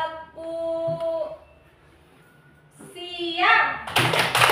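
A class of children clapping hands in a call-and-response clapping game, a short burst of claps arriving at the very end after a teacher's sung call, with a quiet pause in between.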